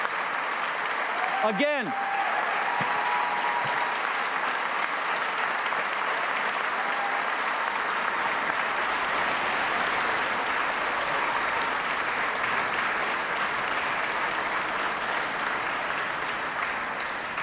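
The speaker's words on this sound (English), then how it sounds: "Please stand up, give them a round of applause." An audience at a Rhode Island State of the State address breaks into sustained applause filling the chamber, steady and moderately loud, with a speaker's brief word at the start.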